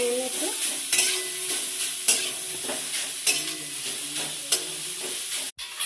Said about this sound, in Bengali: তো দেখতেই পাচ্ছ কড়াইতে কিন্তু চলে গেল হচ্ছে বিট আর গাজর, তাই তো? এটা হালকা করে ভাজবে। হালকা করে একটু নাড়িয়ে নিচ্ছি।